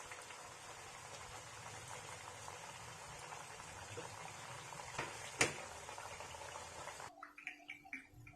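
Aloo papdi frying in oil on a low flame makes a soft, steady sizzle and crackle, like light rain, that stays faint and even before cutting off near the end.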